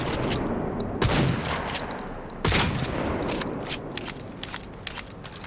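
A Headsman shotgun fires in Cyberpunk 2077, with two sharp, heavy blasts spaced about a second apart followed by a patter of lighter clicks and impacts, moderately loud with no speech.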